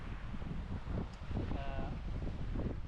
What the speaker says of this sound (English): despite being too